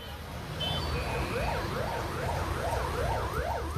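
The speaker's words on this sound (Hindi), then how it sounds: "बगल से सायरन बजाकर गुजरती एम्बुलेंस से भी जैसे इन्हें कोई फर्क नहीं पड़ता।" An ambulance siren wails in repeating rising and falling sweeps as it passes through a crowded market, over steady street noise.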